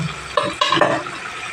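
Spice paste sautéing in a pan for an omelette curry, a close, bright sizzle with a few quick stirring scrapes of a spoon against the pan, heard alone without voices.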